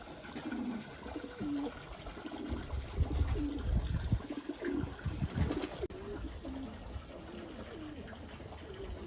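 Racing pigeons coo and flutter in a quiet outdoor setting, soft cooing calls repeating at a distance with faint rustling and background noise.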